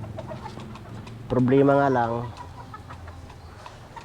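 A broodcock rooster on a farm lets out one loud, close, harmonic crow-like call lasting about a second, with someone speaking softly around it and faint background clucking.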